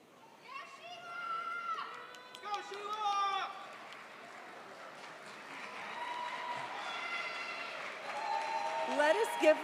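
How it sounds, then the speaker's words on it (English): At a Berkeley Social Welfare commencement ceremony for the Class of 2024, the crowd applauds MSW graduates: a continuous wash of clapping mixed with loud cheers, whoops and shouting voices that swell and rise toward the end. "Let us give a round of applause to our MSW students, our graduates."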